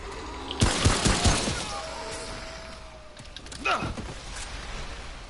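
Weapon fire in the video game Remnant: From the Ashes: a quick cluster of sharp, rapid shots near the start, then a couple of further bursts over a busy game soundscape.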